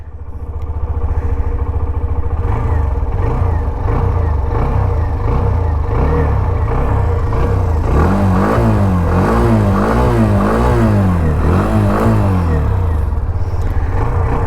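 A Hero Xtreme 125R motorcycle engine idles loudly close by, then rises into a run of quick, repeated throttle revs that climb and fall in rapid succession.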